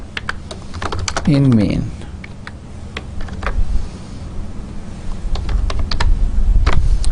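C++ code is typed on a computer keyboard in short, close bursts of clicking keystrokes, with a voice speaking briefly over the tapping.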